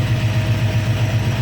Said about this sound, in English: the engine idle characteristics and RPM doesn't change